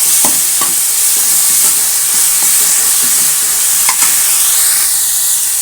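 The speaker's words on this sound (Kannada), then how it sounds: "ಇದು ಚೆನ್ನಾಗಿ ಈರುಳ್ಳಿ ಜೊತೆ ಬಾಯ್ಲ್ ಮಾಡಬೇಕು, ಹಸಿ ವಾಸನೆ ಹೋಗೋವರೆಗೂ ಬಾಯ್ಲ್ ಮಾಡಬೇಕು" Coriander, curry leaves and green chilli masala frying with onion for coriander rice, producing a loud, steady hissing sizzle with occasional faint utensil taps against the pan.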